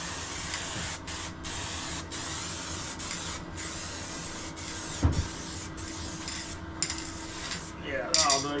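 A long, steady hiss of matte lacquer being sprayed from an aerosol can over parts for a van spotlight bar, nearly continuous with a few brief gaps and some light clinks of handling near the end.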